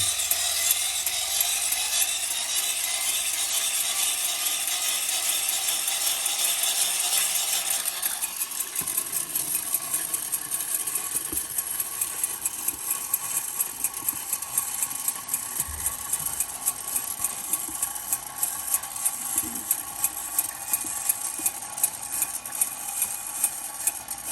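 A rapid, regular mechanical clicking ticks on continuously from an X-27 Explorer wind-up toy being cranked, over a steady background hum.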